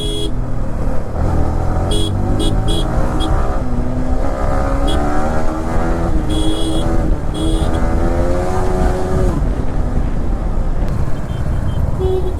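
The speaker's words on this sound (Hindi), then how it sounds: "आज बड़ा खतरनाक वाला ट्रैफिक है इधर।" A loud, steady engine drone from riding a Kawasaki Z900 motorbike through heavy night-time road traffic, with tonal engine whine shifting in pitch and scattered horn-like beeps over the rumble.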